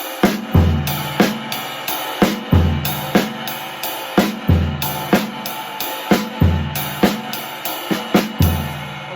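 Looped drum pattern of kick drum, snare and cymbal, repeating with steady, regular hits and punchy low thumps under bright cymbal wash, loud and without talk.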